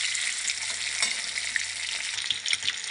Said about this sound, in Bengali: আমার 3টে ভোলা মাছ ভাজা হয়ে গেছে, এক পাশ এবার উল্টিয়ে দেবো